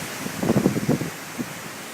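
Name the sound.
wind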